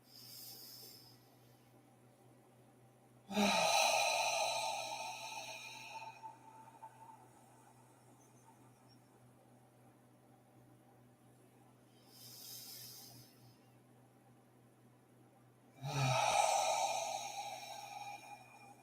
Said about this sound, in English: let's take a deep breath in through our nose